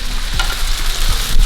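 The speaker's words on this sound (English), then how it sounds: "So like the rice is frying here." Rice sizzles steadily in a hot pan while frying for fried rice, a utensil scraping and stirring through it a few times, close and fairly loud.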